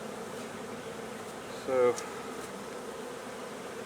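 Bees buzz steadily around a hive being relocated, a continuous close insect drone with a brief louder burst midway and a single word spoken.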